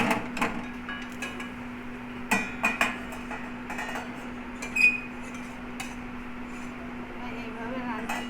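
A cooking pot of hilsa fish curry with brinjal lifted off the stove, with sharp metallic clanks and scrapes of pot and utensils, several distinct knocks over a steady background hum and faint voices.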